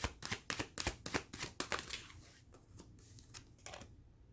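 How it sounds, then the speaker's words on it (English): Tarot cards are shuffled up close in a steady series of crisp slapping riffles, about a dozen quick strokes that thin into quieter scattered taps, with no voice over them. "I'm gonna go ahead and shuffle"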